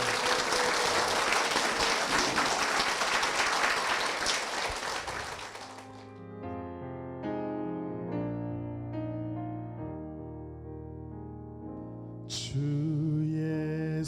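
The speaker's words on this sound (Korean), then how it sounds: "두 분께 힘찬 축복의 박수 부탁드릴게요." Dense, energetic clapping from a church congregation giving a blessing applause, lasting about six seconds before fading out as sustained piano-like music takes over and continues alone.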